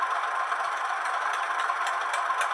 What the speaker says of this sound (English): That's the Spyrex valve.